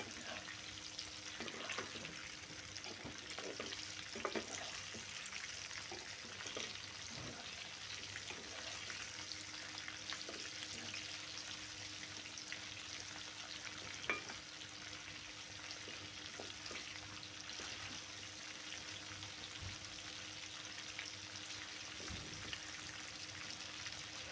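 Prawns frying KFC-style in a pan give a steady, moderate sizzle throughout, with occasional soft clicks and scrapes of stirring and no talking.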